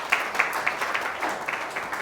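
A church congregation gives a burst of lively applause to thank Jesus, dense clapping from many hands filling the room steadily.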